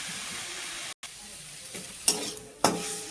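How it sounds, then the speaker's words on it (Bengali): Lai greens sizzle steadily in a hot pan, broken by a couple of sharp scraping stirs close up. "লাই শাকটা ভাজা ভাজা হয়ে গেছে"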